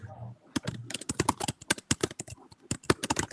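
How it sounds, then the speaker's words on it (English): Rapid, forceful typing on a computer keyboard, a dense run of sharp clicking keystrokes close to the mic, with a brief muffled voice at the very start. "Someone's a keyboard smasher"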